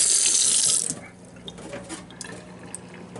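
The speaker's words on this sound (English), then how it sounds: "So now we're just going to rinse and drain." Cold tap water runs loudly into a jar of sprouts for about a second, then stops, leaving quieter sloshing and drips as the rinse settles.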